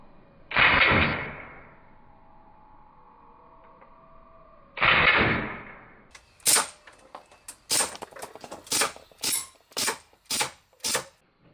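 A PFAM9B pistol fires at a target: two loud isolated bursts first, then a rapid string of about nine sharp cracks, each followed by mechanical clicking, close and with no talking.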